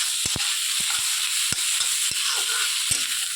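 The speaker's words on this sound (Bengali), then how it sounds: "এবার আমি এখানে এই যে চিংড়ি মাছগুলোকে দিয়ে দিলাম, দিয়ে ভেজে নেব।" Shrimp, heads included, fry in a pan with only a little oil over lowered heat, giving a steady close sizzle broken by a few sharp stirring knocks.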